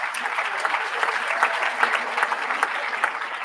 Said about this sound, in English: let's give them all a huge round of applause